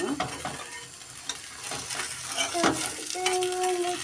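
Frying in a pan with a little oil, a hissing sizzle under a few stirring scrapes and a brief squeaky tone near the end, close and steady.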